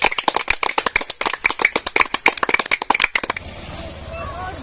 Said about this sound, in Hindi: आप लोग एक बार जोरदार ताली बजा दीजिए